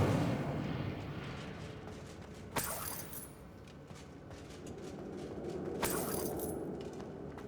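Incendio fire spell in Hogwarts Legacy, two whooshing bursts of flame over a rumbling, crackling game background, moderately loud.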